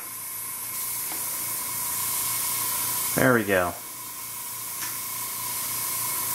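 A steady hiss from a Badger Patriot 105 airbrush spraying at about 12 PSI runs throughout, while a voice speaks briefly in the middle.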